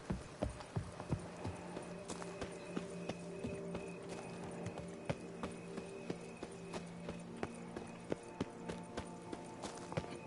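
Roach the horse runs in the video game Witcher 3, hooves clip-clopping in a quick, fairly steady rhythm with sharp distinct impacts, set against a quiet ambient background with soft music.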